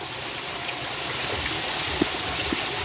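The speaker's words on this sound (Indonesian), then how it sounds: "Iya, ada pancuran di sini mah tuh ya" Water pours steadily from a bamboo spout beside a rice field, a constant close rush and splash with no talk.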